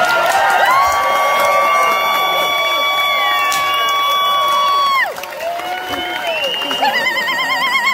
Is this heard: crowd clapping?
yes